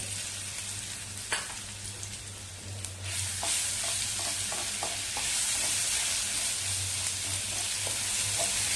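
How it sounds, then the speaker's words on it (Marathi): Chili paste frying in hot oil with turmeric, a steady close sizzle that swells louder partway through, punctuated by light scraping taps of a spoon stirring the pan. "चांगलं तेलामध्ये हे वाटण परतवून घ्यायचं."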